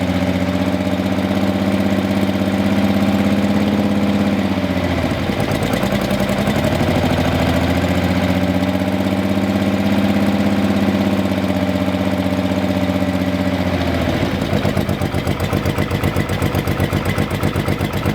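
A close engine idles with a steady rumble and ticking top-end clatter, dipping briefly in pitch twice before settling again.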